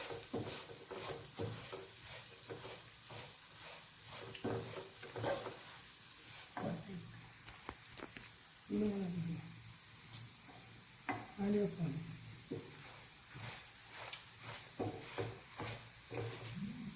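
Masala powder frying for Thalassery mutton biryani, with intermittent sizzling and stirring scrapes in a pan, soft clatter and some background voice around it.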